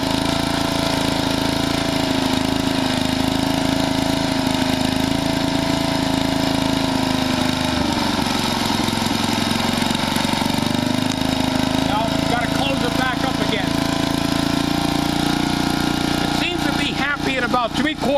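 Generac Model 8838-0 portable generator engine running steadily with its choke about three-quarters closed, a loud continuous mid-pitched drone that wavers slightly near the end, with no talk over it.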